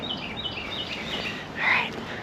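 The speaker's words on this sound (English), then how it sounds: "Oh, I hear a beautiful bird." Bird singing outdoors in a garden in winter, faint chirps and a brief brighter call near the end over a steady outdoor background.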